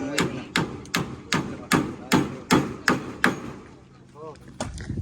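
Heavy hammer blows pounding something in, about nine evenly spaced loud thuds followed by a pause and one more strike, with faint voices between.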